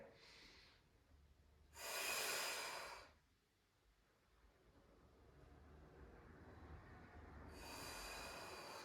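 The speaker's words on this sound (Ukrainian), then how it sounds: "видих. Вдих." Deep breathing exercise: a short inhale, then a long forceful exhale, then a long breath starting near the end, all heard close and loud with quiet pauses between.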